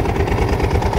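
A Ducati 749 two-cylinder 750 cc sport motorcycle engine runs with a loud, close, pulsing low rumble for about a second.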